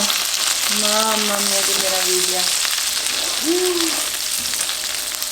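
Gnocchi sizzle and fry steadily in a pan over low heat, a constant close hiss, while a person exclaims briefly over it.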